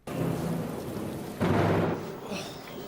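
A stormy day with steady rain and a deep rumble of thunder that swells partway through, filling the whole clip as a continuous wash of weather with no speech.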